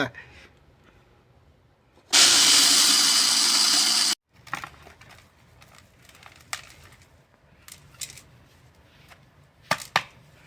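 A kitchen mixer grinder runs loud and steady for about two seconds, grinding black kavuni rice into powder for porridge. After it cuts off, faint clinks and handling sounds follow.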